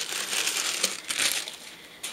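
Small plastic bags from a birdhouse kit are handled and crinkled, giving close, bright rustling bursts that come and go over a couple of seconds.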